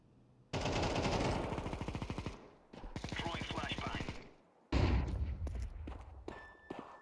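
Rapid automatic gunfire in the video game Counter-Strike 2 rattles in three long bursts, loud and close, separated by short pauses.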